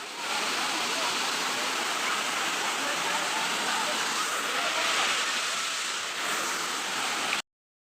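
Kaipho Langso waterfall in Karbi Anglong pours in a steady, loud, broadband roar that fills the scene without a break before cutting off abruptly.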